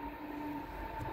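A regional train pulls slowly out of a German station, a steady rumble with a sustained tonal whine from the running gear, heard from the platform with no talking.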